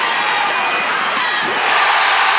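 Crowd roars and cheers at a Maryland vs Virginia men's lacrosse game right after a player's first career goal, a loud, continuous wash of voices for a few seconds with a commentator speaking over it.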